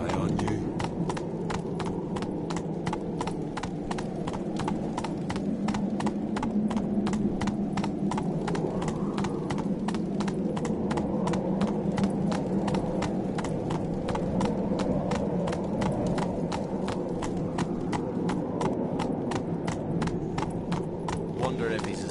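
Rhythmic clip-clop of the horse Roach's hooves at a steady gallop, continuous and close, in The Witcher video game, with a faint background bed of wind and ambience.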